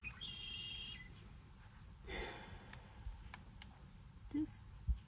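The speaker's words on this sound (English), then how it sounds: "Just take a moment and just listen to the birds." Birds sing outdoors during a relaxing trip, faint chirps and short calls scattered over low background noise, with a soft murmur of voices in the distance.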